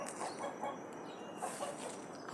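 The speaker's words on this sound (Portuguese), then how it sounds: "soltei as galinhas para dar uma limpeza aqui no quintal" Backyard chickens let loose to forage and clean up, heard as soft, scattered clucks and murmurs repeating at a moderate distance over steady outdoor ambience, with no voices.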